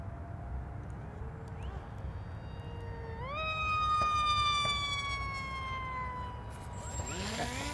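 A SkySurfer Pro RC airplane zips past with a whining electric motor whose pitch climbs as it approaches and then slides down as it passes and fades away, over steady outdoor background noise.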